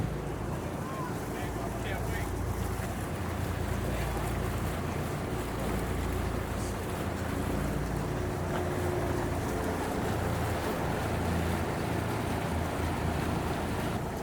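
Twin OXE diesel outboard engines on a 30-foot Intrepid center console rumble steadily alongside wind buffeting the microphone and water noise, a loud, unbroken drone throughout.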